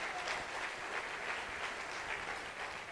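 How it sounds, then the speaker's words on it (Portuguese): A church congregation at a Sunday celebration service applauds a worker, the clapping soft and somewhat distant, a continuous patter that runs evenly throughout. "Vamos aplaudir o obreiro Marcos, né?"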